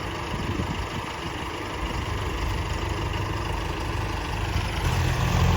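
A steady, unbroken rumble of Arjun and John Deere tractor engines idling nearby, with no voices and an even level from start to finish.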